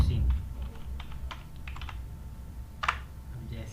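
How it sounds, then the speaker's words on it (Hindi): Keys clatter on a computer keyboard as a name is typed into an Excel spreadsheet, with irregular light taps, one sharper keystroke near the end, and a low background hum. "चलिए मैं एक नाम टाइप करके देखता हूँ"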